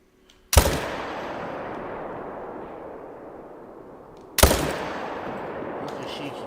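Two loud hunting-rifle shots ring out a few seconds apart in theHunter: Call of the Wild, each a sharp crack followed by a long, fading echo across open terrain.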